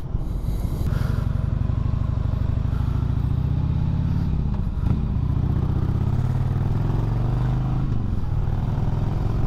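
A Harley motorcycle rides along with a loud, steady, rumbling engine and a low throbbing tone, mixed with wind noise, heard close and continuous.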